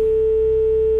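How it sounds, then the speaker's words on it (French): The first ring of an outgoing telephone call comes through as a single steady electronic tone, held evenly for about a second with nothing else around it. "Première sonnerie."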